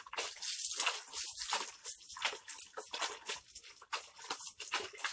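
Water is poured over a freshly sown seed bed, giving a steady run of splashing, dripping and crackling bursts on the soil, close and fairly loud, with no talking.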